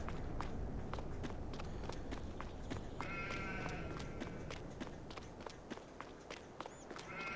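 Farming Simulator 22 game audio: quick, regular footsteps tread over ground while sheep bleat a few times nearby in the middle, all fairly quiet and with no talking.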